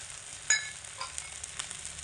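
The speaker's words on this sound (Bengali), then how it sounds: "এবার এর মধ্যে দিয়ে দিচ্ছি একটু আদা বাটা" Ginger paste drops into hot oil in a pan, a faint steady sizzle with a small sharp crackle at first and soft spits afterward.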